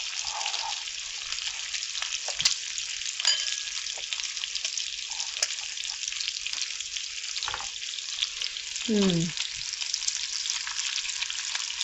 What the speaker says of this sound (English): now I'm just going to put these onions in there so I can saute with the bacon